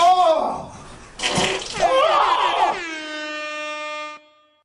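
A loud, blaring air horn sound effect plays on a livestream, its long brassy honk sliding in pitch and then holding steady before cutting off, with a voice talking over the start.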